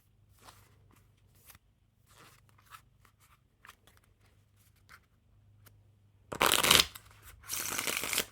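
Close, dry riffling of a red-themed Gettin Spicy deck by Organic Playing Cards: quiet scattered card clicks and handling, then two louder bursts of fanning near the end, no voice.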